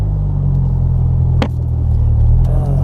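A Honda S2000, a rear-wheel-drive roadster, drives on wet roads in the rain. A steady low engine rumble and road drone fill the cabin throughout, with one brief click partway through and no talking.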